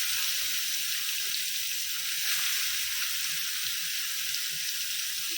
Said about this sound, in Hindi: तेल एकदम गरम हो गया ना, फिर ये मच्छी फ्राई करनी थी।